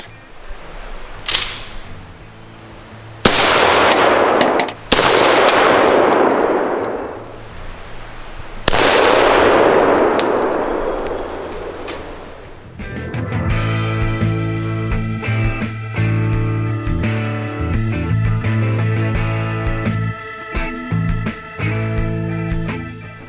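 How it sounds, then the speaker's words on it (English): A CZ 712 Practical shotgun fires Federal game loads at a pumpkin 22 yards away: about four loud, sharp blasts, each with a long rolling decay, spaced over the first half, followed by a steady tonal backdrop. "We are 22 yards from the pumpkin, Federal game load. Putting it in a CZ 712 practical."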